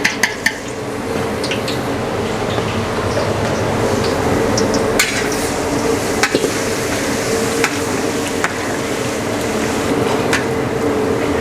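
Garlic fries in a large pan for a big catering batch of birthday fried noodles, a constant loud sizzle broken by sharp metallic clanks of a spatula against the pan.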